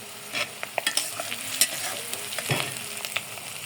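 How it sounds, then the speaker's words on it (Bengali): Onions frying in a pan until brown, a continuous sizzle broken by frequent spoon clicks and stirring scrapes, close and moderately loud. "বাদামি কালার করে একবার ভেজে নেব।"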